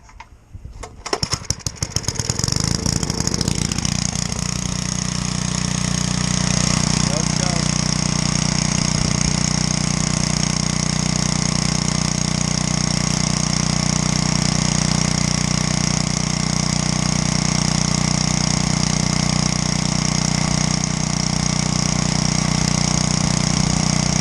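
A 1970s Sears generator is pull-started with choke on, a few rough sputters settling into a steady, loud small-engine drone that runs evenly and consistently.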